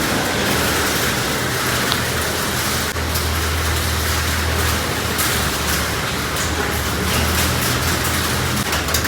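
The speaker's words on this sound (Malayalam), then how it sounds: "മലേഷ്യയിൽ വന്നിട്ട് ആദ്യമായിട്ടാണ് കേട്ടോ മഴ കാണുന്നത്" Steady, loud rain pours down in Malaysia, a dense continuous hiss with a faint low rumble underneath and no voices.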